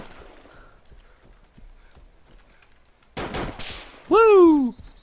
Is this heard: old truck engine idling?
no